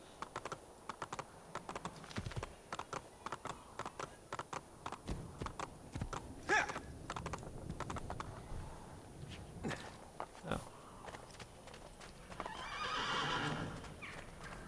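Horse neighing in the Assassin's Creed Ezio Collection video game, a brief whinny among clip-clop hoofbeats and rapid clicking taps, with a louder burst of noise near the end.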